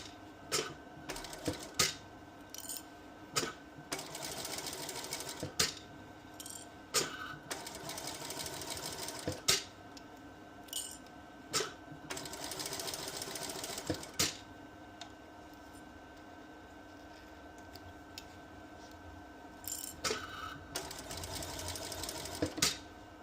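A sewing machine stitching a bucket hat, running in steady bursts of fast, even clatter separated by short pauses and small clicks as the fabric is repositioned, close and clear with no talk.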